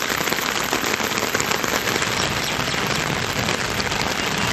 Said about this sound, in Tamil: உள்ளிட்ட பகுதிகளில் மழை கொட்டி தீர்த்தது